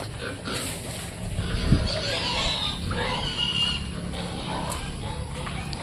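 Pigs grunt in a pigpen housing Landrace pigs, rough low oinks repeating close by over a busy, noisy background, with faint voices now and then.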